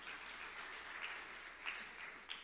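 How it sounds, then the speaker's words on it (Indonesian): Faint, distant applause from a church congregation during a sermon, a soft continuous patter of clapping with a few slightly louder bursts, no talk over it. "Tepuk tangan yang meriah untuk kemuliaan."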